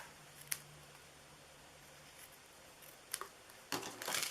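Scissors cut a pearlized paper doily in half during a papercraft session. A few soft, quiet snips and clicks are spaced out over a near-silent background, with a short cluster at the end and no talking.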